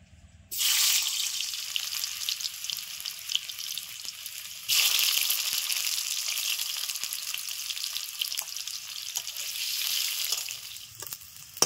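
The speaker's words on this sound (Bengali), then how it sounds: "আলুগুলো হালকা করে ভেজে নেব" Boiled potatoes frying in a wok of leftover oil give a bright, steady sizzle that starts abruptly, flares louder midway and then settles. No one speaks.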